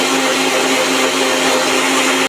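An electric mixer grinding spice paste for a fish curry, with a loud, steady, high-pitched whirring motor running without pause.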